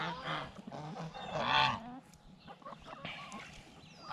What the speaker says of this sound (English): Why do all you geese have to come in here?